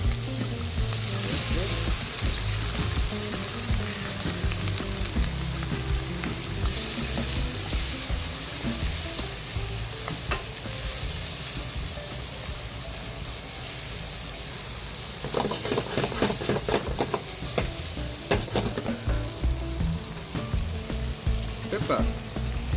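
Shrimp stir-fry in butter sauce with white wine, a loud steady sizzle with bursts of spatula scraping and clatter against the pan, especially in the later half.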